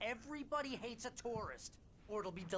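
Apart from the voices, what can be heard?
No everyday noises stand out.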